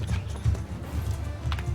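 Horse hooves clip-clopping in a video game, a quick steady beat of low hoof thuds at close range, with faint background noise and no talk.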